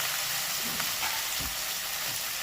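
Fried onions and spices sizzle and crackle in a pan as they are stirred, a continuous close hiss with soft scraping strokes mixed in.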